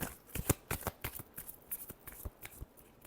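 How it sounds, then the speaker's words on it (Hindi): Tarot cards being shuffled by hand in a final shuffle, a quick series of crisp riffling snaps and flutters, close and fairly quiet, with no voices. "last shuffle"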